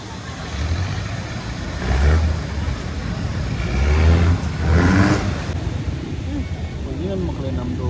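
Local motor boat engine in Krabi, Thailand, droning steadily at mid distance with a few surging swells, while people talk over it.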